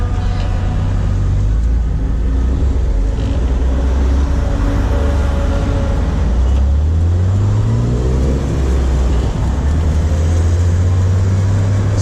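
An M54-swapped BMW E30 cruises along a highway, its engine drone and road noise loud and constant from inside the car, with pitch shifts as the revs change.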